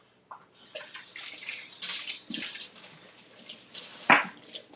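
Tap water runs steadily as a container is rinsed out in a kitchen sink while making frozen coffee, a continuous close splashing with shifting pitch and a brief gurgle near the end, no talking.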